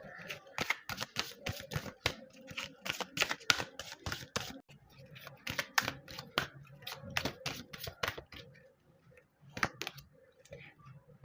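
Tarot cards are drawn out and handled close by, making crisp, rapid flicks, taps and shuffling snaps in irregular clusters with short pauses between.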